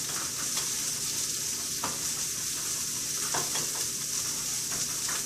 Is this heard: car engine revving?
no